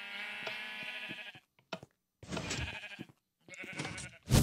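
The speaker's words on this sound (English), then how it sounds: "There goes another dead sheep." Sheep in the video game Minecraft bleat in three separate bursts with short silences between, clear, close and fairly quiet.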